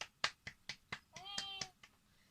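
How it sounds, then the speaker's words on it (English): About nine sharp hand claps at an uneven rhythm, close and fairly quiet, with a brief tonal voice or meow-like sound overlapping the middle claps. "Let's give a clap to Laurie"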